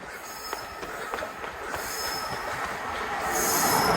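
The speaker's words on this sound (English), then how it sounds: "Passing through now is a set of Freightliner Class 90s." A pair of Freightliner Class 90 electric locomotives passes with rumbling wheels, rhythmic rail clicks and rising metallic squeal, growing louder as they near, with no voices.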